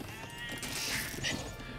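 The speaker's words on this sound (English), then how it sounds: "Get that sheep into the town center" Sheep bleating in the Age of Empires real-time strategy game, a short nasal bleat over busy game sound effects with faint clopping and clatter, fairly quiet.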